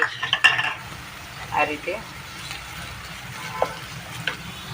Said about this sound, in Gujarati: આપણે પેલી ડુંગળી નાખી દઈશું, આપણે આદુ લસણની પેસ્ટ